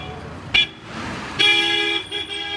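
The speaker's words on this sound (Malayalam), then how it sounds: "ഹോണടിക്ക് പടിയുമ്പോൾ ഒരു കമ്മിയില്ല നല്ല ഹോണടിച്ചു ആൾക്കാർ" Car horns honk in busy Kashmir road traffic on the way to Pahalgam, a short sharp toot followed by a longer, louder blast and a brief final beep over steady engine rumble.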